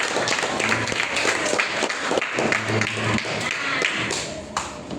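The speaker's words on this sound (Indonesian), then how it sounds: "kasih tepuk tangan" A class of students claps in a classroom, a loose, uneven patter of hands with some thumps and taps, moderately loud, with voices mixed in.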